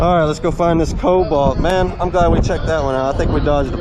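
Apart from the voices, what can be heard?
None of the usual background noises is heard.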